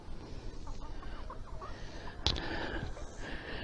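Soft hen clucks and chatter over a steady background hum, with a brief sharp knock partway through.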